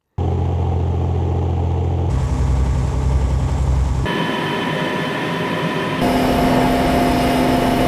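Hover vehicle engine loops for a UE4 and Wwise game, a steady synthetic drone that steps through three loops at about two-second intervals, rising in pitch and gaining tonal whine from idle to slow to fast movement, loud and continuous with no speech.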